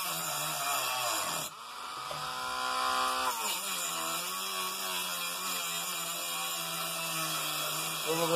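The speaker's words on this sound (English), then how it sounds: "Might be a piece of aluminum I'm cutting in there." A power tool cuts through a piece of aluminum while scrapping a water cooler, a loud continuous whining buzz with shifting pitch, briefly dipping around the second mark before resuming steadily.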